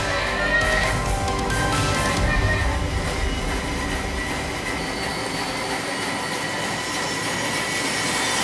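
A 1943 Tannewitz 36-inch bandsaw runs in a workshop, giving a steady, loud mechanical hum and whirr with faint metallic ringing, continuous throughout with no talk.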